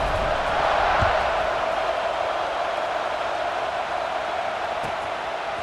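Steady roar of a stadium crowd in an EA Sports NCAA college football game, a dense continuous buzz of cheering voices late in the fourth quarter, holding at an even level throughout.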